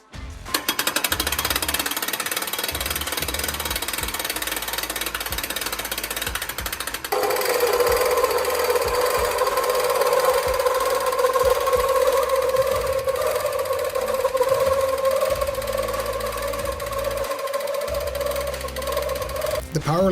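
A ReechCraft PowerLift climbing unit runs while lowering, a steady loud mechanical whir and rattle lasting about twenty seconds, shifting to a higher motor whine partway through.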